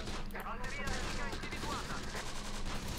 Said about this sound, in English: We're already taking shots here with the Breda.